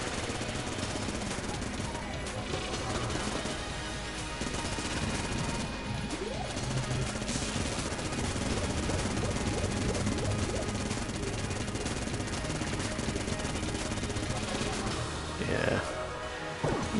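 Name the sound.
Vulcan cannon rapid gunfire in video game Enter the Gungeon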